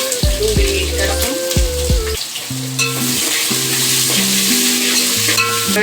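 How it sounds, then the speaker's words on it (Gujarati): Onion fries with dry chillies and curry leaves in hot oil for sambar, a steady loud sizzle running throughout, partly under background music. "આપણી આ ડુંગળી સંતળાઈ ગઈ છે"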